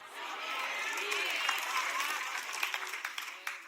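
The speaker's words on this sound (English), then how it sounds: "All the applause, just stop." Church congregation applauds during a sermon, clapping rising from faint to a steady crowd patter, with voices and a few sharper claps near the end.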